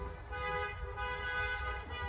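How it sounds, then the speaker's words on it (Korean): Car horn blaring on a San Francisco street during unrest, a sustained steady honk held near and loud, with traffic noise underneath. "근데 계속 빵빵빵빵 소리 나는 거야 지금"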